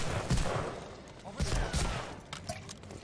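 Gunfire in Medal of Honor: Allied Assault: a short burst of several rapid shots with booming low-end thumps, mixed with game ambience and voices.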